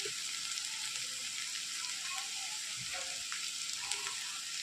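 Tomatoes and onions sauté in a pan with garam masala and coriander powder for a snake gourd roast, producing a soft, steady hiss with faint scattered pops.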